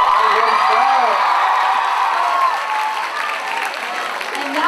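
A talent show crowd at an international fun fair claps and cheers after a performance, loud dense applause with scattered whoops and shouts that eases off slightly toward the end.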